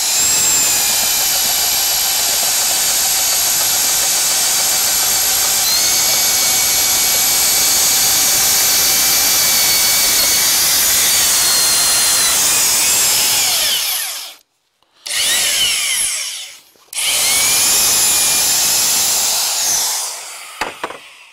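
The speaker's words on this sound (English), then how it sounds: "you can see where we drilled our hole for our dowel" An auger bit on a power drill boring a dowel hole in wood for a log cabin, a loud continuous high whine and grinding roar that cuts off, restarts twice in short bursts, then winds down.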